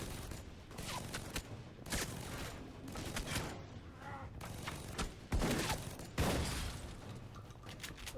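Automated turrets in the Alpha Protocol game spray gunfire in bursts of sharp cracks and heavier impacts, irregular and fairly loud, with two prominent blasts late on and some talk mixed in.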